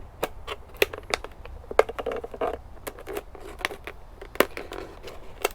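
A razor knife slices through a garden plant stem in a run of sharp, close crackling snaps and clicks, irregular and fairly quiet, with no talk.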